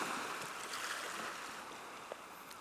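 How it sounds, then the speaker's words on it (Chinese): Ocean waves in an immersive electronic music piece, a broad, steady wash of surf noise with soft swells, filling the space and continuing without any speech. "你还可以听到你被大海包围的声音"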